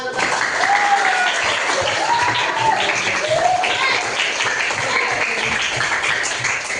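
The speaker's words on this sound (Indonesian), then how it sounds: "tepuk tangan untuk semua" A classroom full of students claps together in sustained applause that stays dense and steady throughout, with a teacher's voice and other voices heard over the clapping.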